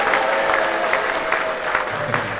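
Audience applause at a stage show as performers come on, a steady, dense wash of many hands clapping close by, with faint crowd voices underneath.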